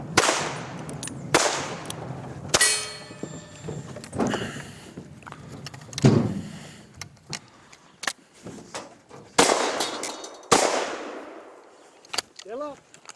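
Gunshots ring out at a cowboy action shooting stage, a string of sharp, separate cracks spaced a second or two apart with a short ringing tail after each, fairly close, mixed with handling clatter and brief voices.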